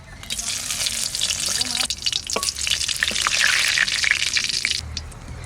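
Cumin, bay leaf and dry chillies hit hot oil with a loud, bright crackling sizzle and spatter, close up, with a few clinks and stirring scrapes mixed in.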